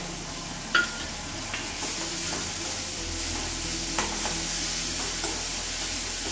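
Chilies and green garlic fry in a pan with a steady sizzle, broken by occasional scrapes and taps of a spatula stirring them.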